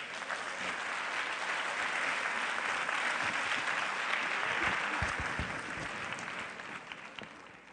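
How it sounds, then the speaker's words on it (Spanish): An audience at an economics lecture gives steady, hearty applause to welcome director Ildefonso Guajardo Villarreal, a dense wash of clapping that swells and then gently tapers, with a few low thuds mixed in. "Recibamos con un fuerte aplauso al director Ildefonso Guajardo Villarreal."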